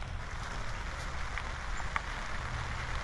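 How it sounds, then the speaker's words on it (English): Steady rain patters on a taut tent roof overhead, a dense, even hiss with occasional sharper drops, close and continuous throughout. "It has started to rain."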